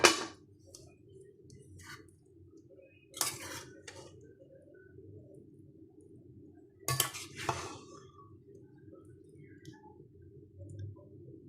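A serving spoon clinks and scrapes against a pot while fish biryani is dished up, with a few sharp metallic taps near the start and two clusters of clattering clinks later over a quiet background.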